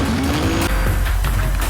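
A Ferrari hypercar races past at Spa-Francorchamps during an endurance race, its engine note rising and falling in a loud, close pass, with a faint crowd and other cars behind it.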